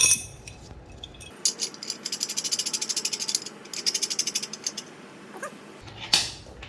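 A bolt being tightened on the secondary clutch of a Can-Am X3 Maverick Turbo during a roller replacement: a close, steady run of rapid metallic ratchet clicks that stops, followed by a single clink.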